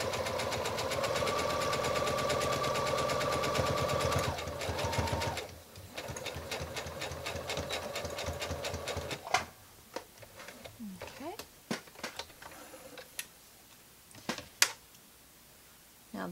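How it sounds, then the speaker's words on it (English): A sewing machine stitches a seam with about a 5/8 inch seam allowance, running in a fast, steady mechanical whir for several seconds, then slowing into short bursts, clicks and fabric handling. "And now, alright, sewing that with about a 5/8 of an inch seam allowance."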